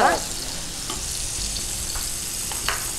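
King fish masala fries in oil in a pan, a steady close sizzle broken by a few soft stirring scrapes, alone without talk.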